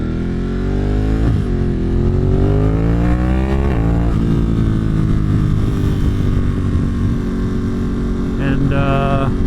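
A motorcycle engine fitted with a Termignoni 3/4 exhaust system roars continuously and loud while riding, with rising and falling pitch through gear changes and a steady heavy drone, wind rush mixed in.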